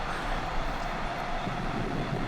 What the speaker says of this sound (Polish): Przejeżdża pociąg samochodowy z platformami pod samochody do Swarzędza.